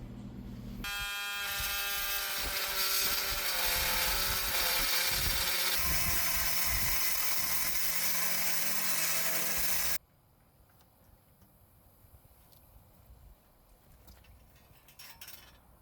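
A power tool cuts a 10-foot strut for a hood-mounted solar rack on a 4Runner, running loud and steady with a whining, buzzing tone for about nine seconds before stopping abruptly, followed by quieter handling sounds.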